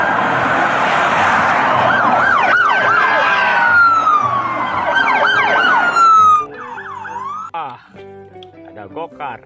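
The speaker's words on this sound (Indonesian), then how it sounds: "yang ini ada mobil polisi teman-teman" A loud police car siren wails and yelps in rising and falling sweeps close by, then cuts off into scattered electronic tones and clicks.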